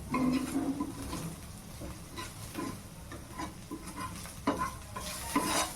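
Paneer bhurji base frying in a pan, stirred steadily with repeated scraping strokes over a constant close sizzle, no talking.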